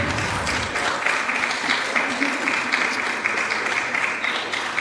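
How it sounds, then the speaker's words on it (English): A debate audience applauds as the gubernatorial candidates leave the stage, a sustained, dense round of clapping that fills the room from start to finish. "Can we give both of them a round of applause as they do exit?"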